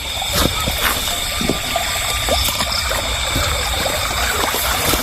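River water flows steadily and loudly, a constant broadband rush with faint trickling and a thin high squeal running through it, continuous with no pauses or voices.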